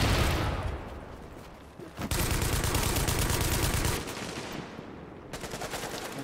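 Sustained automatic gunfire in The Division video game, rapid bursts of shots that stop briefly and resume, loud and close with no voices over it.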